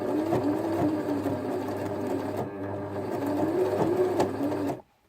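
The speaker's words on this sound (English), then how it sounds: "top stitch around the entire thing using a long stitch length" A sewing machine top stitching a fabric glasses case with a long stitch length: rapid, steady mechanical chattering and whirring up close, running continuously for about five seconds before stopping abruptly.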